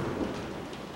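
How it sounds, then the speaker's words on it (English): Low thunder rumbles steadily outdoors on a Saturday night, a broad continuous roar with rain-like hiss, heard alone at moderate level. "Do you guys hear that thunder?"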